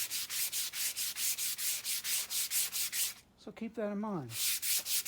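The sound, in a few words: sanding a large wooden spoon with sandpaper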